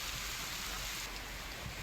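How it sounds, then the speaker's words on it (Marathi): Heavy rain pours down in a dense, continuous wash of noise, steady and unbroken throughout, in coastal Sindhudurg, Maharashtra, with a rough sea. "जोरदार पावसाने हजेरी लावलेली आहे"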